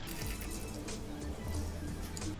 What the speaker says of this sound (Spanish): Aquí vamos a echarle primero el agua.